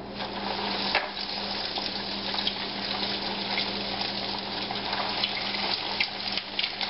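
Grits appetizers fry in a pan of hot oil on a stove, giving a steady, fairly quiet bubbling sizzle with a brief louder burst near the start, heard alone without any speech.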